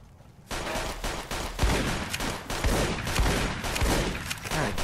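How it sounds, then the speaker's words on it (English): A shotgun fired in a video game, with repeated loud blasts and rapid bursts of gunfire in quick succession, dense and close with no pauses for speech. "Shoot straight, you stupid shotgun."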